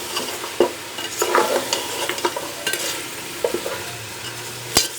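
Beef trotters (paya) being stirred and fried in a pot, a steady close sizzle with repeated scraping and clattering of the spoon against the metal in irregular strokes.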